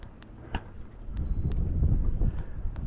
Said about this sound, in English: Fair bit of wind.